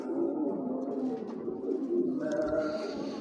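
A big pair of original silver Afsan pigeons gives a steady, rolling coo close by for a few seconds, low and continuous with slight swells.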